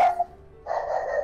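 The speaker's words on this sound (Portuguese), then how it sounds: "Cachorro com latido chato hoje em dia" A dog barks in a couple of short, sharp yaps followed by a longer, sustained bark, fairly close and clear with no talking over it.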